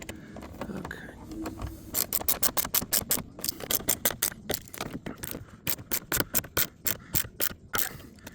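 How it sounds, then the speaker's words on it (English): Rapid, close socket wrench ratcheting during replacement of a car's driver-side mirror, in repeated bursts of sharp clicks with brief pauses, after some quieter handling noises at the start. "Socket wrench."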